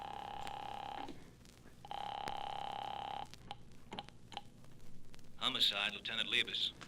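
An old telephone rings on the line after a number is dialed, two long buzzing rings separated by a pause, then a voice answers and talks over it.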